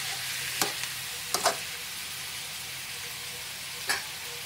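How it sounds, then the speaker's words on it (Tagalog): Chicken sautés in cooking oil in a pan: a steady, moderately quiet sizzle with a few brief sharp utensil clicks scattered through it. "sasangag-sangag po natin sa mantika yung chicken"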